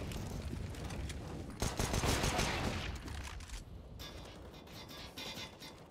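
Rapid gunfire bursts from a Counter-Strike match, dense automatic fire that swells, then drops away into scattered shots and mechanical clicks.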